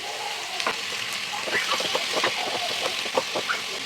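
Onions and tomato sizzling and crackling in a hot pan for a red chutney, a continuous bright fry with scattered pops and stirring scrapes, close and fairly loud.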